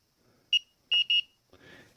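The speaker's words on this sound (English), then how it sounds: "It has an alarm if it goes over a certain temperature." Wrist-worn temperature gun sounding its over-temperature alarm: three short, sharp electronic beeps, one then a quick pair, close and clear in a quiet room, followed by faint rustling.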